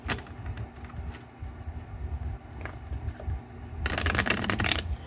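Tarot cards riffle and slap together in a handheld shuffle, soft ruffling building to a loud rapid flurry near the end, with no talking.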